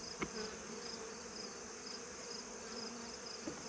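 Honey bees buzz in an open hive being condensed, a steady, faint, even hum filling the whole stretch with a couple of small knocks and no voices.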